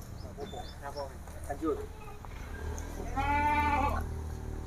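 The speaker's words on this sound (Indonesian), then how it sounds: "kambing yang ada di sini adalah sudah termasuk kambing Indian semua" Indian breed goats on a farm bleat in short wavering calls, the clearest one loud and close near the end, over a steady background hum of the pen.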